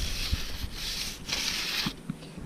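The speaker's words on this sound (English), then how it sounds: "we're going to remove the debris and dirt from the channel using a brush" A brush scrubbing dirt and debris out of the trim channel on an RV camper, several rough, hissing back-and-forth strokes in close succession, nearby and without any voices.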